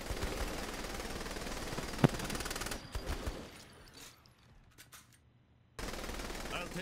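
Minigun in Saints Row: The Third firing as a loud continuous rattling burst for the first few seconds, then dropping to quieter scattered shots and near silence before the heavy gunfire roars back in.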